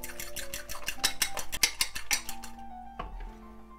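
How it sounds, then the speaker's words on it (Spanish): A whisk or fork beats eggs and sugar in a bowl for flan, a fast series of close metallic taps and scrapes against the bowl that stops abruptly, followed by a final clink. "Ahora le vamos a agregar las 2 cucharadas de azúcar. 1, 2 y volvemos a batir."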